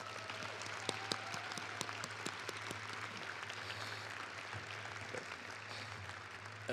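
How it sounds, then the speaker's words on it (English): Audience applause at a press conference, a steady wash of clapping held at an even level for several seconds with a constant low hum beneath it and a few sharper claps standing out. "And so can we get a round of applause for Kelly Savage?"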